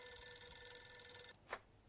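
In the game Mafia 2, a telephone rings indoors, a faint continuous bell trill holding for over a second before cutting off abruptly, followed by a short soft click.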